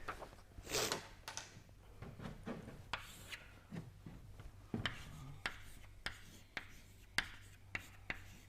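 Chalk or marker writing on a board during a turbulence lecture, with scratchy strokes and sharp taps spaced irregularly over a steady room hum, no talking.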